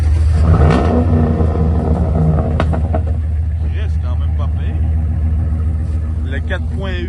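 A truck with a 4.8 Vortec engine revs with a loud, deep rumbling drone that rises and falls, while people talk over it.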